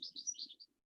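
Bright, quick bird chirps in a short close series, a few rapid tweets ending in one last brief note, over a faint low murmur of background noise.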